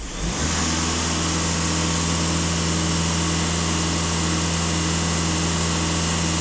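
A Skoda Octavia A7 with the 2.0 TDI diesel engine is held at raised revs. It produces a steady, loud, continuous drone with a constant engine hum and no speech.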